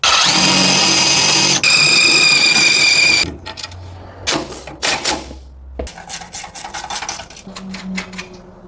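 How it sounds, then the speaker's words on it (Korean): A power drill bores a hole for a bolt in a homemade sprayer frame, whining loudly for about three seconds before stopping, followed by quieter scattered knocks and handling clatter. "이쪽을 먼저 구멍을 뚫어가지고 볼트를 체결하고"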